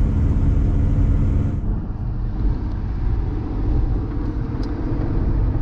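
An old Mopar car engine running steadily on the road, a continuous loud rumble with road noise that eases slightly after the first second and a half, no talking.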